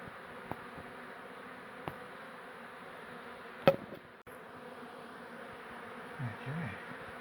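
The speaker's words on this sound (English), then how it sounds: "Bees are having a ball and they're just doing what they do." Honey bees buzz during a beehive relocation in a bathroom, a faint, continuous droning hum with a few sharp knocks and clicks from handling the hive.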